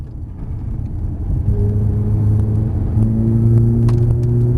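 A Ferrari F430 engine on a race circuit hums steadily and then builds in pitch as it accelerates, a loud, continuous drone that rises and holds near the end.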